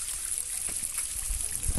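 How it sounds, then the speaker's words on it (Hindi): Water trickling and flowing downstream toward a waterfall in Unakoti, Tripura, a steady, close, low-level babble of small stream water with soft gurgles running throughout. "ये पानी झरने की तरफ बह रहा है यहाँ नीचे।"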